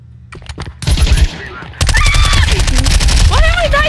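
Rapid automatic gunfire in Counter-Strike 2, several loud close bursts of shots with a brief pause between, under game sound effects and a few short voice sounds.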